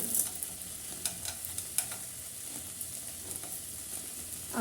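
Leftover pilaf with peas being stirred in a pan, a soft sizzle with scraping spoon strokes and light clatters recurring every second or so, close and quiet.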